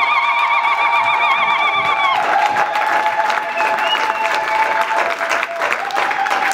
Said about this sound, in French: We're going to give praise to God through clapping.